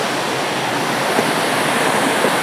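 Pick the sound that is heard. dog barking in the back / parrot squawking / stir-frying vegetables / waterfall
waterfall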